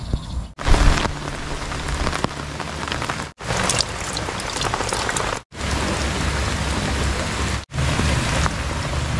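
Heavy rain pours steadily onto a campsite at the Timah Tasoh freshwater fish sanctuary in Perlis, a loud dense hiss with drops pattering on surfaces, broken by brief near-silent gaps.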